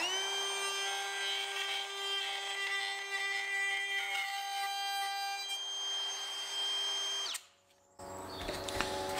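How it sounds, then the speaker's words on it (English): A power router cuts a mortise into a piece of wood, giving a steady, loud, high-pitched whine with rich harmonics for about seven seconds before it abruptly winds down and stops. No one speaks. "Turn the router on and router out to the end."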